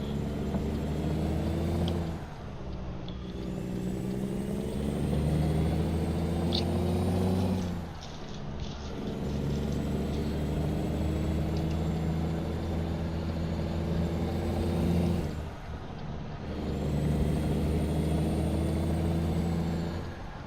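A truck in American Truck Simulator drives through town, its engine droning steadily with gear-change dips and rises in revs, close and continuous with no talk.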